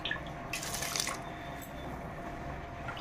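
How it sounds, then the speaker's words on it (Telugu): Soaked basmati rice goes into boiling water for mutton dum biryani, giving a soft splash and a short burst of wet pouring and dripping. Gentle bubbling and kitchen hiss continue quietly afterward, with no talking. "గంట క్రితం నానబెట్టుకున్న బియ్యం అయితే వేసుకుందాం."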